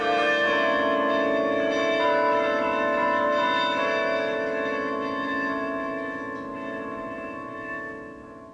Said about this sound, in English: 35 students from all over the world come here to master this huge musical instrument, the carillon.